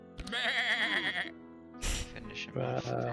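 A sheep in the video game Across The Obelisk lets out a wavering bleat, close and clear, followed by short game effect bursts.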